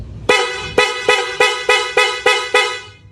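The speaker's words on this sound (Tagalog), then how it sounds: "Ito naman yung kanyang loud horn." A loud aftermarket horn on a Raider 150 motorcycle sounds with the engine off, seven strong evenly spaced blasts in a row, each a bright, brassy honk, loud and close with no talking.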